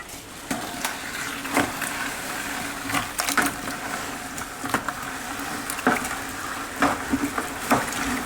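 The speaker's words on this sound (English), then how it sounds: "So I'm going to give it a bit of a stir." A spoon stirs sugar into a rhubarb wine mixture in a container, making irregular close scraping and clinking knocks about every second over a steady low background hum.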